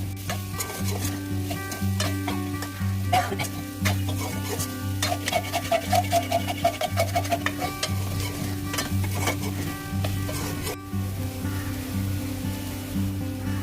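Elephant foot yam pieces frying with masala, continuously stirred and scraped in the pan with a close, steady sizzle and rhythmic rubbing strokes that stop near the end.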